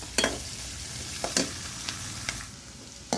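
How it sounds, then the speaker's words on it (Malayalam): Sliced onions sautéing in a pan, a soft continuous sizzle broken by several sharp scrapes and clinks of a spatula stirring against the pan. "ഇപ്പോൾ ഇതാ സവോളയൊക്കെ ഇട്ട് ഒരുവിധം നന്നായിട്ട് വാടി തുടങ്ങിയിട്ടുണ്ട്"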